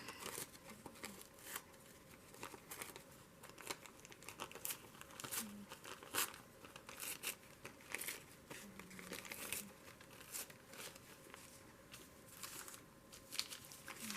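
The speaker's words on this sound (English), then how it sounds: "rip some paper" Thin mulberry paper is torn and crumpled by hand, giving soft crinkling and repeated ripping bursts close to the listener, quiet and unbroken, with no speech.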